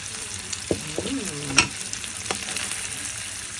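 Garlic browning in butter in a frying pan, a steady sizzle and crackle of frying with a few light stirring clanks, close and fairly quiet, no voices.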